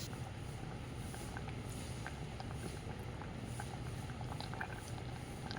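Jackfruit seed curry with snake gourd boils steadily in an open pot, a continuous bubbling patter with small pops, close and fairly quiet, with no talking.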